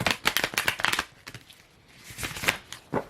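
Tarot cards are shuffled in quick bursts of riffling and slapping, close and fairly soft, with a short pause midway before a few more shuffles.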